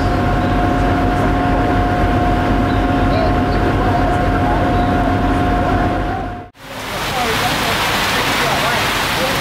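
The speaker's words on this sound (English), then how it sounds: "the rain that was forecast for this morning has now arrived and it's coming down in buckets" Heavy rain pours down at Disney's Hollywood Studios in a dense, loud, steady hiss. It cuts out briefly, then resumes just as strong.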